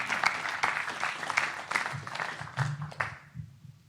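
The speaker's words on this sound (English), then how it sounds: "Please, big round of applause, Professor Dominic Rowe." An audience at a talk applauds with moderate, steady clapping that tapers off and dies away over the last second, no voices over it.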